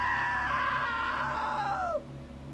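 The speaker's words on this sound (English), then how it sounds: "Now that was a great scream." A woman's scream from What Remains of Edith Finch, loud and close, holding a high wavering pitch for about two seconds before sliding downward and cutting off.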